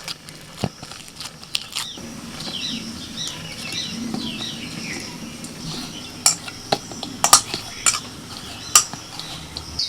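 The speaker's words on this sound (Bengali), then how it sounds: "বেশ কিছুক্ষণ ধরে হাত দিয়ে থেসে থেসে ময়দাটা মেখে নিয়েছি" Momo flour dough kneaded by hand with a little oil, giving soft squelching and pressing sounds with a few sharper knocks and taps against a bowl or board, fairly quiet and close.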